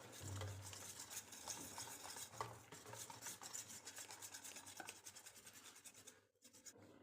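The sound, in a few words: whisking gram flour with yogurt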